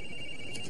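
A mobile phone ringtone chimes steadily at a moderate distance over a low background hum, a sustained electronic tone carrying through the whole short moment with no one speaking.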